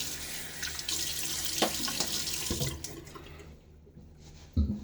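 Tap water runs and splashes close by while wetting a face for a shave, then the flow eases off before a final splash.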